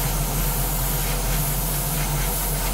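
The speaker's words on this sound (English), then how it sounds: "literally just spray it lightly on" Continuous hiss of an aerosol spray being lightly applied to a surface, steady and close for nearly three seconds with an even, unbroken level and no talking.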